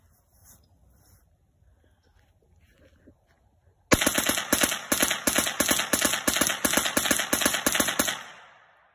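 Ruger Charger 10/22 pistol fitted with a Franklin Armory binary trigger, unleashing a loud close burst of rapid, evenly spaced .22 shots after a few seconds of quiet, then stopping abruptly with a short ringing tail.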